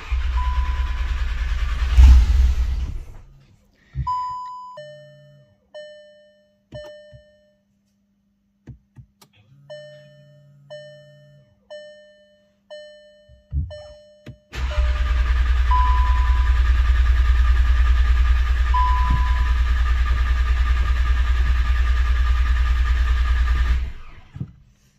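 A Volkswagen Golf 7 R being prepared with a stage 2 tune cranks and fires, then settles into a steady, loud idle for about ten seconds, preceded by clicks, electronic chimes and beeps from the dashboard, with no talking.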